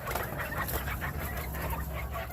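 Ayam Cemani hens clucking softly and intermittently in a coop, a steady low hum underneath and no voices.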